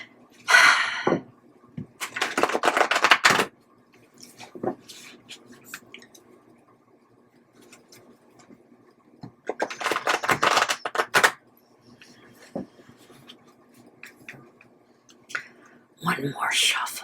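Tarot cards shuffled close up in several brisk riffling bursts with quiet gaps between, and a voice speaks briefly in between.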